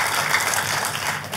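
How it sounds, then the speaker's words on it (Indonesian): A church congregation gives dense, lively applause during a sermon on divine healing, a continuous wash of clapping at steady volume with no voices on top. "Tepuk tangan yang meriah buat Tuhan kita."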